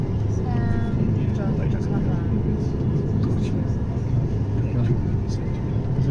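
Crowded airport bus driving through the harbor area of Split in high season, with a continuous loud low engine and road rumble and a few faint tonal whines above it.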